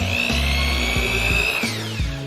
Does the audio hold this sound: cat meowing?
no